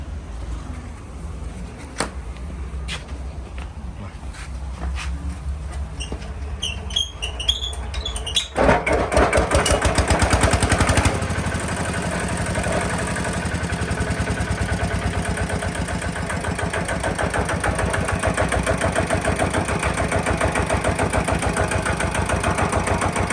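An old Kubota E9 mini excavator's diesel engine cranks and catches, then settles into a steady, close chugging idle that runs on for many seconds.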